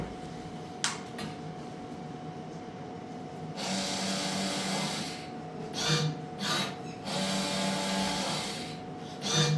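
A cotton wick (rui batti) making machine runs steadily with a continuous whirring, rasping mechanical hum and a few sharp clicks. The noise grows louder and busier after a few seconds, and no one speaks.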